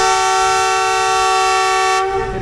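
The ZCU 20 diesel locomotive leading the restored Babu passenger train in Pakistan sounds a loud, steady horn blast held for about two seconds, close by, then cutting off.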